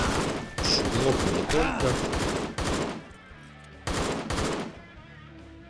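Bursts of rapid automatic gunfire from the shooter game Postal 2 crackle loudly in several volleys separated by short pauses, with someone speaking between and over them.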